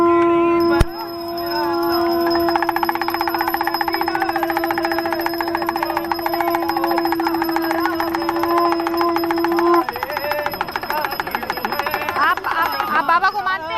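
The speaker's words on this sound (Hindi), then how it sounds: "एक छोटा सा बच्चा यहां पर शंख लेकर आया है" A young boy blows a conch shell outside a hotel in Patna, producing a long, loud, sustained horn-like tone that holds steady for many seconds with a slight shift near the end, and a voice sounds faintly around it.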